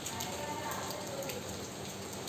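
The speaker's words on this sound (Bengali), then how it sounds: "বৃষ্টি পড়ছে" Rain falling outside on an evening makes a faint, steady wash of dense patter that stays even throughout.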